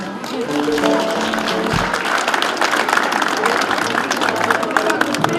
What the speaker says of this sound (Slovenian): dajte jim še en aplavz